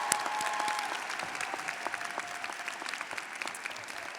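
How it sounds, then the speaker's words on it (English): A graduation audience in a large hall applauds steadily, many hands clapping in a dense, even wash that holds at a constant level throughout, a little distant, with no voices standing out. "Let's give her a big round of applause."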